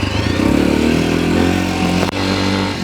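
A SYM GY 150 motorcycle engine revs loud and close, a rough rising-and-falling drone with a brief cut near the end before it resumes.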